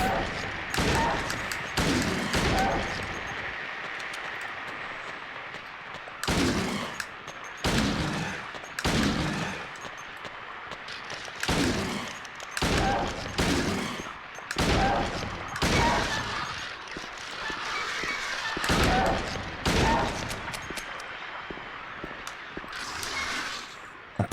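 Pistol gunshots in the video game Silent Hill 2, a series of sharp, loud shots at irregular intervals, some in quick pairs, with a voice talking between them.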